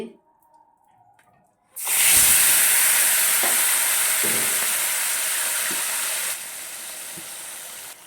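Small puti fish hit hot oil in a wok, bursting into a loud, steady sizzle and hiss that holds for several seconds after a brief quiet start, easing slightly near the end.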